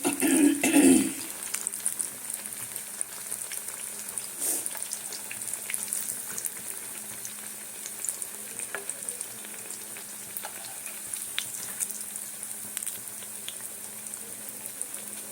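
Potato and pea cutlets fry on low heat in a pan, giving a soft, steady sizzle with faint crackles throughout, and a brief louder stir or clatter at the start.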